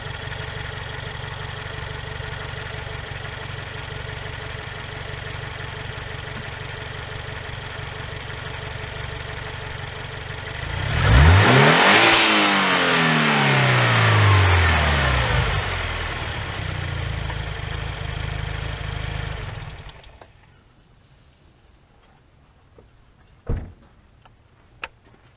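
A modified 2015 Subaru WRX engine idles steadily up close, then revs up and back down in a sweeping climb and fall before the engine cuts off, leaving near silence broken by a single clunk.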